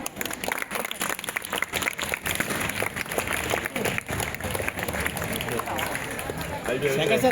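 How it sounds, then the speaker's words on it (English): A school science expo audience claps in a dense, steady patter that runs throughout, mixed with crowd chatter and voices. "Claps all of you."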